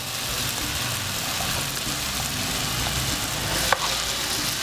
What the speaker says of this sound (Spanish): Ahora la vamos a sofreír.